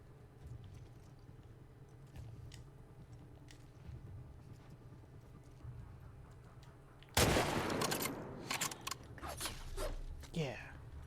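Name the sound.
gunshots in The Last of Us Part II video game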